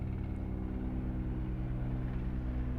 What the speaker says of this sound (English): there's an aircraft flying overhead and it is so loud